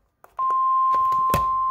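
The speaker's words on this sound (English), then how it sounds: "The proceeding was a test of the National Weather Service warning alarm tone." A loud continuous 1050 Hz National Weather Service warning alarm tone starts abruptly after a couple of short clicks and holds steady, with a brief thump near the end.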